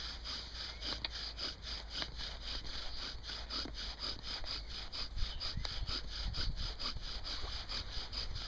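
A wooden fire drill bores rapidly back and forth in a wood hearth board, a continuous rhythmic rasping friction sound, close and steady, with occasional small knocks.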